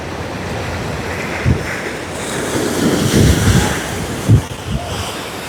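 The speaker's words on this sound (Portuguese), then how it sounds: "O barulhinho do mar." Sea waves rolling onto Copacabana beach in Rio, a steady wash of surf with a few louder breaking swells and some wind rumble on the microphone, no voices.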